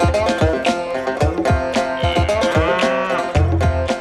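Cows mooing on a farm, several low drawn-out lowing calls overlapping one another, close and fairly loud, with a deeper sustained moo near the end.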